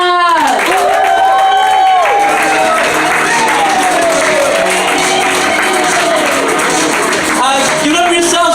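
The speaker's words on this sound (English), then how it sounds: "while you're clapping" A comedy club audience at Crobar applauds and cheers for a comedian, a loud sustained wash of clapping mixed with whoops and shouting voices.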